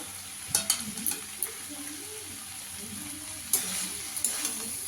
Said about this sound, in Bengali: ঢাকনাটা খুলে একটু নাড়া দিয়ে দেবো